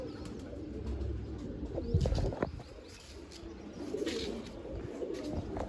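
Pigeons coo softly at close to mid distance over a steady low background rumble, with a few brief chirps and a sharp knock in between.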